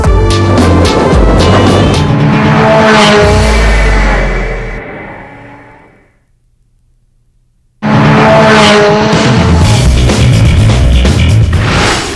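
A supercar is driven hard on a closed stretch of Mulholland Highway, its engine roaring loud and near with tire squeal. The roar fades to silence, then cuts back in abruptly at full volume.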